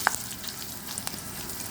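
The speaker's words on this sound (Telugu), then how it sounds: "పులిహోర కోసం పోపు చేసుకుంటున్నాండి" A steady, close sizzle of spices and chilies crackling in oil in a pan for tempering, with a couple of faint pops over the short stretch.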